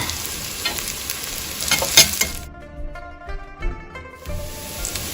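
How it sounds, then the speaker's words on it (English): Garlic and onions frying in a pan for a homemade chicken biryani: a loud, steady sizzle up close, then a quieter stretch with stirring and clinks before the sizzle swells again, no speech. "Now I'm gonna add the garlic, and I'm going to let it fry too."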